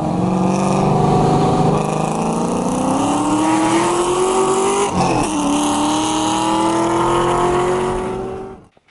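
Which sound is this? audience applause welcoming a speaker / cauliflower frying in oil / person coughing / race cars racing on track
race cars racing on track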